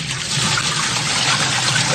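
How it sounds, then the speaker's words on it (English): Water pours down a freshly unclogged kitchen sink drain, a loud, steady rushing and gurgling flow heard up close and continuing without a break after a brief softer start. "I'll pour a lot of water here."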